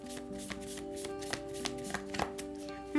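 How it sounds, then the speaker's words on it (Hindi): Tarot cards being shuffled by hand, a run of soft riffling taps and slaps at a quick uneven rhythm, close and quiet over a faint sustained musical drone, no talking. "तो चलिए शफल कर लेते हैं मकर राशि कैप्रिकॉन साइन के लिए।"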